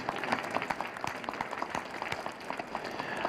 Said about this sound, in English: Hope you'll join me giving the panel a round of applause for their thoughts.